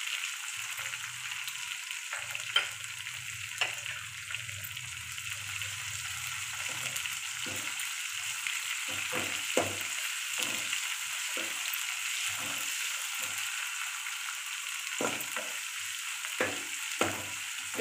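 Ginger, green chili, garlic and curry leaves sauté in hot oil in a pan, with a steady close sizzle and scattered stirring clicks and scrapes throughout, no voices.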